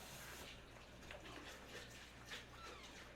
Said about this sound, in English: We're gonna cool it off with just a little